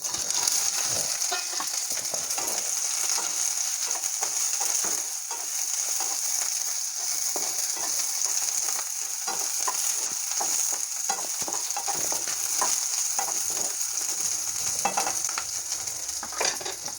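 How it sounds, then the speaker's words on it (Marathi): Okra fries in hot oil in a kadhai, a loud continuous sizzle with frequent stirring clatter running close and steady throughout. "कढई पण गरम झाली आहे तेल चांगलं गरम झालं आहे तर मी या ठिकाणी भेंडी फ्राय करून घेते आहे"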